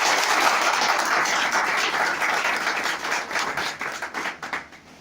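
An audience applauds at an income plan presentation, a dense, loud wash of clapping that holds steady and then thins out toward the end.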